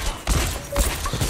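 Video game gunfire, a few loud close bursts of shots at irregular intervals, heard during a gaming session that tests a GPX Superlight mouse with a claw grip.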